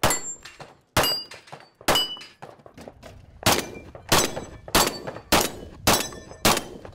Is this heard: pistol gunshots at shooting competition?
yes